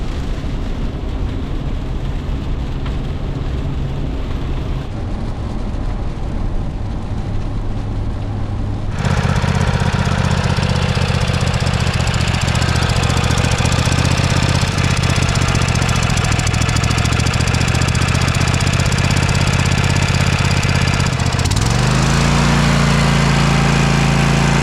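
A Cub Cadet XT1 riding mower engine runs with a rough, pulsing idle that suddenly grows much louder about a third of the way in, holds a steady roar, then shifts pitch near the end.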